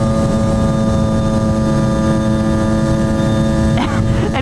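A small 50cc bike engine idles steadily after a cold-morning choke start, a loud, close, continuous buzzing hum with a steady tone, broken near the end by a brief faint voice.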